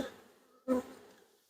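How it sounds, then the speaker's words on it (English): A honey bee buzzes close by while a hive is being worked, its steady drone continuing throughout, with a brief louder burst of handling noise partway through. "Get out, bee. I got one bee."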